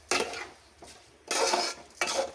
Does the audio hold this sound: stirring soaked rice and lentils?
yes